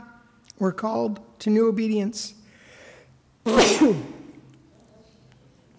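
A single sharp sneeze rings out in a church congregation during a service, following spoken liturgy from a leader and ending with a short voice afterward.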